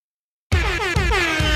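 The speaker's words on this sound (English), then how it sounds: "this track plays, and then you've also got the air horn sample playing" After half a second of silence, a loud blaring air horn sample played in DJ software sounds in repeated rapid blasts that run right to the end.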